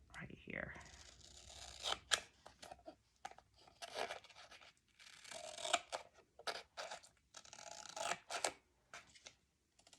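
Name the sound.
scissors cutting album material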